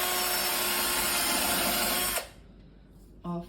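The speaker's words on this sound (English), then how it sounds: "These holes that Craig is drilling" A power drill whirs steadily at high speed for a couple of seconds while drilling holes in kitchen cabinetry, then stops abruptly, followed by a short hum of the motor restarting briefly.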